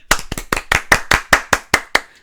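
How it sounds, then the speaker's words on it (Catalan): Ten sharp hand claps in a steady, even rhythm, close and loud, with nothing else around them. "Toca aplaudiment perquè es posa en primera posició"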